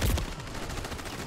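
Burst of gunfire in the battle royale game Call of Duty Warzone, a dense crackling volley that hits hardest at the very start, then trails into a steady rattling wash of distant shots, with no talk.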